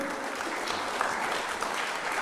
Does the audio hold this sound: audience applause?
yes